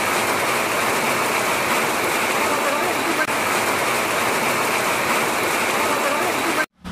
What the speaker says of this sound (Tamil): மழை பெய்ய ஆரம்பிச்சிருச்சு